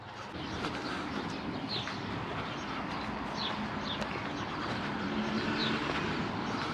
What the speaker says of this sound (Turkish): Kuş sesleri duyuluyor